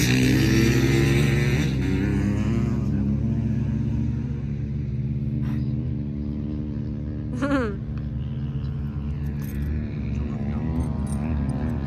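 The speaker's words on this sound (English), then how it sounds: "Mga truck, jeep." Trucks and jeeps drive over the sand at Silver Lake Sand Dunes, a steady low engine rumble with a brief rev, while voices talk faintly nearby.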